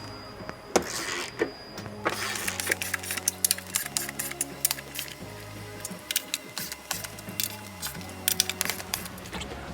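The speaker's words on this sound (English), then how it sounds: "we're going to start by removing the 6 15mm bolts holding the plastic shield on" Removing the six 15mm bolts from the plastic underbody shield of a 2021 Ford Bronco 2.3L: repeated clicks, ratcheting and short whirring bursts of a tool, with clattering handling noises close by.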